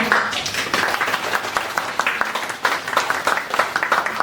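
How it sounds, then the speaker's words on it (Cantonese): Audience applause at a Hong Kong healthcare brand awards ceremony, a dense steady patter of many hands clapping together at moderate volume throughout. "大家俾啲掌聲"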